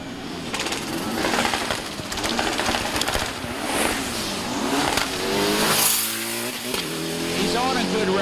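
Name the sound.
VW drag racing car accelerating down the strip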